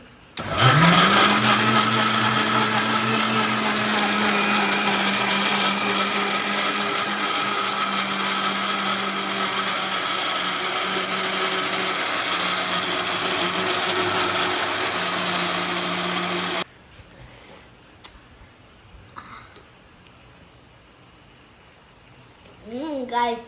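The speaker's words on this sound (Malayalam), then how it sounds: "രണ്ട് ഏലക്ക ഇടാൻ ഇട്ടു മിക്സിയിലിട്ട് ഗ്രൈൻ ചെയ്യാം" An electric mixer grinder pulverises two cardamom pods for homemade ice cream, a loud, steady whirring grind running for about sixteen seconds before cutting off abruptly into a quiet kitchen with faint handling noises.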